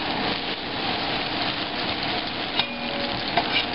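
Butter sizzles in a frying pan heated for crepes, a loud, close, steady crackle with a couple of faint clicks near the end and no voices.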